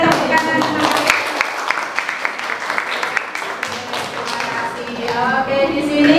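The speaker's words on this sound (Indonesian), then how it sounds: "tepuk tangan" A class of students in a chemistry lesson on reaction rates claps together in dense, continuous applause for several seconds, fairly loud and close, with a voice speaking over it.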